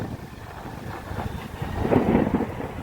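A long rolling rumble of thunder builds and peaks during a heavy May rainstorm with lightning and strong wind, with rain hissing steadily underneath and no speech.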